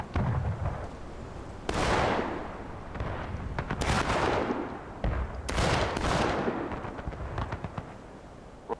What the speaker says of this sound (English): Why are their teammates back in spawn firing over their heads?